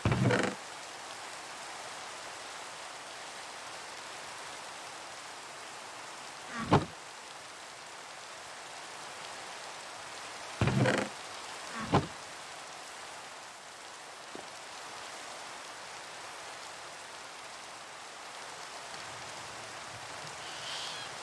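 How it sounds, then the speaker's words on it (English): Rain falls in the Minecraft world as a soft, steady hiss throughout, with a few sharp clicks and taps from in-game actions now and then and no talk. "Oh, it's raining."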